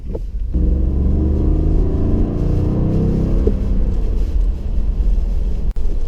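A deep, steady Ford F-150 5.0 V8 pickup engine rumble idles loudly and continuously, a low throaty drone that holds for several seconds with a brief dip near the end.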